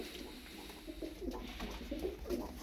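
Tumbler pigeons coo softly in repeated low, throaty pulses, faint and close, with no one talking.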